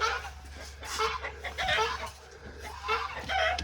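Several chickens cluck and squawk in short, scattered bursts over a steady low hum, fairly close by.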